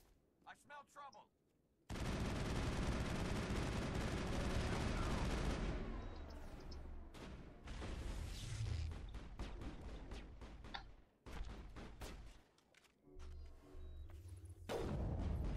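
Sniper rifle gunfire in the Mass Effect video game, a long loud burst of shots and impacts followed by scattered sharp bangs, heard alone with no talking.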